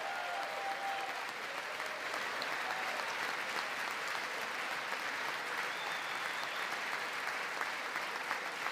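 Sustained applause filling the chamber of Congress during a presidential address by Trump, a dense, even roar of clapping from a large crowd that continues without a break.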